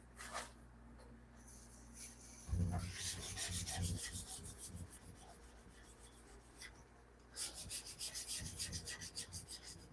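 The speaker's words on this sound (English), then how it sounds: "Oh yeah, I gotta scrape my rails quick." Scraping the metal rails of a woodworking machine, a close raspy rubbing in two longer bursts of quick back-and-forth strokes, with brief quieter scratches between them.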